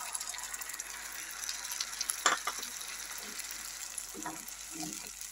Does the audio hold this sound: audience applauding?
no